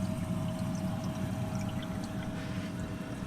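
An aquarium pump pours and sprays water into a bucket and down into a sump return chamber, giving a steady, continuous rushing splash with a low hum, close and alone.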